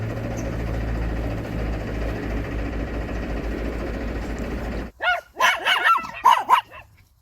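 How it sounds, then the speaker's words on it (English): A steady boat engine hum drones, then cuts out at the mooring, leaving several loud, close dog barks in an irregular burst. "All moored up with noisy dogs."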